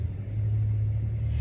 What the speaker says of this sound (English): we do live next to a road that cars travel back and forth